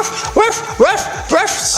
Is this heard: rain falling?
no